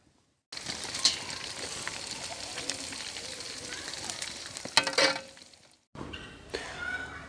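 Chicken frying in a pan for a street-food dish, giving a steady close hiss with scattered crackles and pops that briefly break off before resuming.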